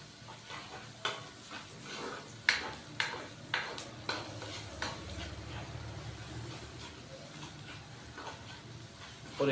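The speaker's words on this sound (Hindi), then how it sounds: "और 1 मिनट के लिए हम अदरक और लहसुन के पेस्ट को फ्राई करेंगे, ताकि इसका कच्चापन खत्म हो जाए।" Ginger and garlic paste frying in a pan, a soft sizzle under a series of distinct spoon scrapes and clacks against the pan, regular stirring strokes for the first half, then quieter sizzling.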